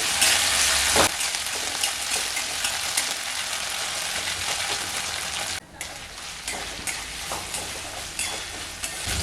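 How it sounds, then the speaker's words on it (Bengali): Garlic, ginger paste and spices fry on medium flame, giving a dense, loud sizzle that runs on continuously while a spoon stirs and scrapes the pan, with a brief dip partway through and no talking. "আবারও মশলাগুলোকে 1 মিনিটের মতো নাড়াচাড়া করে মিডিয়াম ফ্লেমে লাল লাল করে ভেজে নিতে হবে।"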